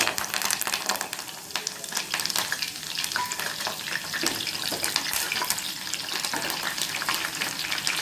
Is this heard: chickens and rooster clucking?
no